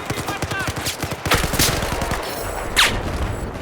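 Rapid bursts of automatic gunfire and single shots from the Battlefield 4 Final Stand multiplayer map Hammerhead, close and loud, with brief game sound effects.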